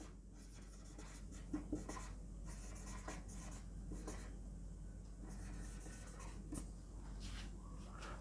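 Chalk or marker writing on a board during a Hindi-language English grammar lesson: faint, continuous scratchy strokes with a few sharper taps, quiet and close, with no talking.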